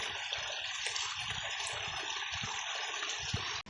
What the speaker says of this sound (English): we can hear it now, the waterfall.